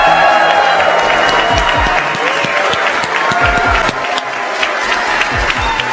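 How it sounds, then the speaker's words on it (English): A large conference audience applauds and cheers loudly as AMD's CEO takes the stage, dense clapping filling the room with scattered whoops, sustained across the whole stretch. "The crowd is hyped."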